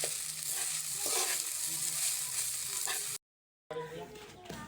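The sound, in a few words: fried rice being stir-fried in a pan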